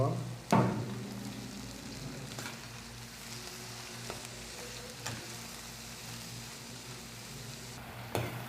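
Spiny eel fish curry with onion and spices frying in a pan, a steady soft sizzle with occasional stirring clanks and scrapes, close but fairly quiet, with a voice faintly present.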